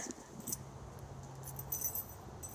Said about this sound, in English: Just let me put the keys away.